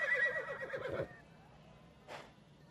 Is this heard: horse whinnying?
yes